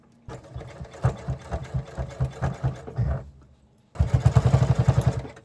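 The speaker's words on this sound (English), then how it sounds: "all I'm going to do is I'm just going to do a zigzag stitch." A sewing machine runs a zigzag stitch along quilt binding, a rapid close mechanical chatter in two bursts separated by a short pause.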